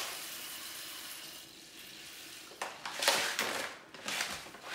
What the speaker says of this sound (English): You put the rice in the water to wash.